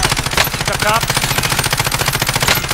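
Rapid automatic gunfire rattles in the video game Modern Warfare. The bursts are loud and rhythmic and run nearly the whole time, while a player's voice speaks briefly over them.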